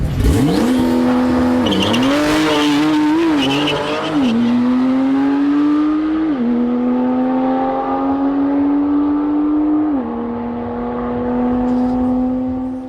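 Tuned car accelerating hard down a quarter-mile drag strip, running 9.8 seconds at 142 mph: a loud engine wail climbing through several gear shifts with a brief tire squeal, fading as it pulls away.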